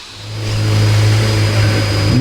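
A McLaren Senna's engine revs up and holds a loud, deep drone up close as the car pulls away, with no talk over it.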